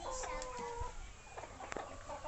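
Farm chickens cluck softly at a distance, with scattered short calls over a quiet background.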